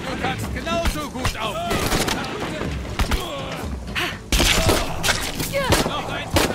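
Gunfire in the video game Shadow of the Tomb Raider, rapid bursts of shots and thuds mixed into a dense, loud battle soundscape with voices talking over it.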